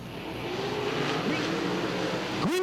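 World of Outlaws sprint cars on a dirt track roar steadily as a heat race gets underway, a dense engine drone filling the air, with one car's rising rev sweeping up sharply near the end.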